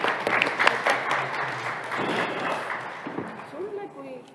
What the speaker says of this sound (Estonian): Teeme aplausi panelistidele.